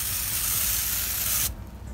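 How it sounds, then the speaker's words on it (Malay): A hand sprayer mists neem pesticide over the tops and undersides of tomato plant leaves and along the stems, giving a steady close hiss for about a second and a half before cutting off abruptly. "Semburan ni kita buat di bahagian atas daun, bawah daun dan batang keseluruhannya."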